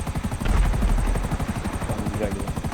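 A GTA 5 helicopter's rotor thumps in a rapid, steady chop, loud and close, with voices talking over it.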